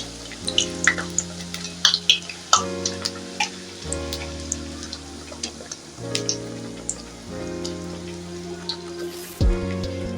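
Puris made from yogurt dough fry in hot oil, a steady crackling sizzle with scattered pops and soft periodic stirring or pressing sounds, close and fairly loud.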